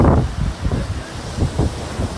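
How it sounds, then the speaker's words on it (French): Light wind blowing by the sea, a soft continuous rush with low gusting buffets against the microphone. "Avec le petit vent."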